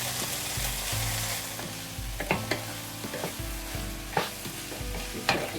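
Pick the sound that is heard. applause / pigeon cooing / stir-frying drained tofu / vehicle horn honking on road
stir-frying drained tofu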